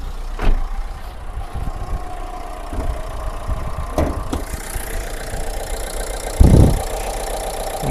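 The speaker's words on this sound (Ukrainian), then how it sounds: "Так у нас працює мотор." Close, steady low rumble of a 2014 Renault Kangoo engine idling, with a few light clicks and a brief louder thump near the end.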